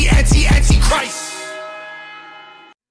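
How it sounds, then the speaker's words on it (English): Bells in the background of a music track ring out over a few heavy beats, then one bright chime decays slowly into silence, loud and close. "I love those bells going on in the background."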